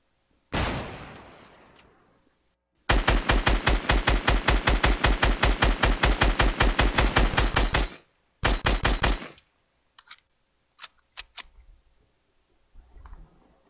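Gunfire in the video game Fortnite: a single heavy sniper-rifle shot with a long fading tail, then a sustained burst of rapid, evenly spaced shots at close range, a short second burst and scattered lighter clicks.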